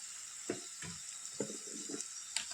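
Crab roast masala is stirred in a frying pan, with a steady sizzle broken by several distinct scraping strokes of a spoon against the pan, close and moderately quiet.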